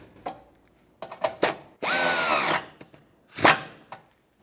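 A power tool tightens the rear bumper bolts on a 1996-2002 Toyota 4Runner, giving one sustained whirring burst of under a second amid scattered clicks and knocks, then a shorter burst near the end.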